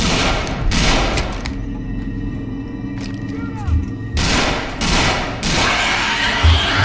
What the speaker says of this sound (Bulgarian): Кой стреля, бе?